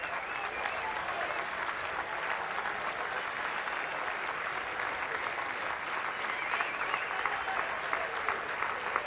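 Baseball crowd at a college super regional game between Texas and Houston, cheering and applauding steadily in the late innings; a dense, continuous wall of claps and cheers holds at a constant loud level throughout.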